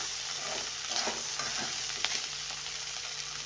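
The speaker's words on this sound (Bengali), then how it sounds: "নারকেল দিয়ে লচ্ছন ভাজি করছি" Coconut frying in a pan with a soft, steady sizzle and a few light stirring scrapes in a home kitchen, close and fairly quiet, with no voices.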